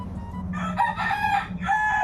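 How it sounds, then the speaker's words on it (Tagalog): A rooster crows twice close by in a rural provincial setting, a loud drawn-out call followed by a second shorter one over a faint low background hum. "Ang daming manok din eh."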